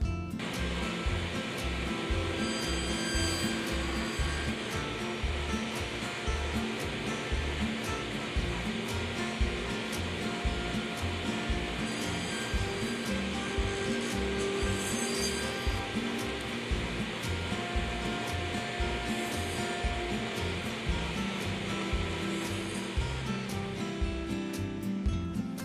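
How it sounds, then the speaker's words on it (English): A table saw makes repeated cross cuts for a rabbet in shelf boards. A steady, loud whirring roar holds throughout with rhythmic low pulsing, and there is no talk. "take a cross cut bar and begin to make a number of repeat cuts to produce the rabbet"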